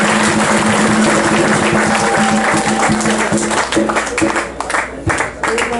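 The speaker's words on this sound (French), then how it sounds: "je demande à l'Assemblée d'applaudir nos invités." Church congregation applauding guests during a Sunday service, a dense burst of clapping from a large crowd that tapers off toward the end, with voices mixed in.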